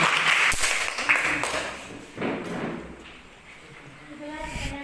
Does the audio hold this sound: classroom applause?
yes